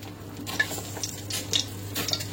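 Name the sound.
mustard seeds sizzling in hot oil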